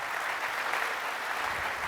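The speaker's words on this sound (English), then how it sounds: "Okay, let's give him a big round of applause." Keynote audience at a tech conference breaks into steady applause, a dense even wash of clapping from a large crowd, fairly distant, with no voices on top.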